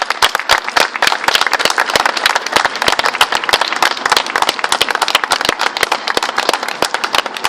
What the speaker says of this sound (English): Like we all give a round of applause for Lee Rigby.